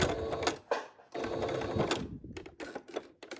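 A sewing machine back stitches fabric for a homemade filtered mask in quick bursts of rapid needle chatter, separated by short pauses, close and clear with no talk.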